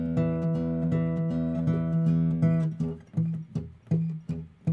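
An acoustic guitar plays a Travis picking pattern, the thumb alternating bass notes in a steady rhythm under plucked treble strings, close and clear, the notes becoming more separated toward the end.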